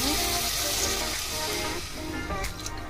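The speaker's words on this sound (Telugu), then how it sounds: "ఈ చెంబు వాటర్ వేసుకున్నాను" Water poured from a pot into a pan of cooking sheer khurma, a steady broadband splash and gush close by that runs the full length, slightly easing midway and picking up again near the end, with no talk.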